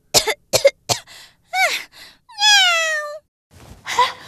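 A kitten gives several short, breathy mews followed by a longer, clear, drawn-out meow, then a final faint cry, close and alone in a quiet room.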